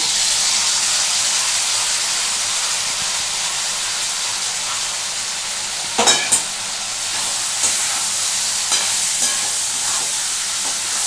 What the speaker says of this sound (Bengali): দেখো বন্ধুরা, এটাকে নাড়াচাড়া করছি আমি।